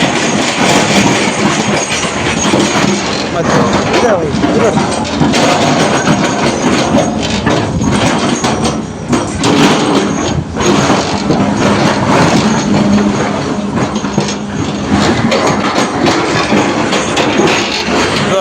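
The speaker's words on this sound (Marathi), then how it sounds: "ट्रॅक्टर आला बघा" A tractor arriving to haul stones for a house foundation gives a loud, continuous engine rumble and heavy rattling that hold steady throughout, close by and with no voices.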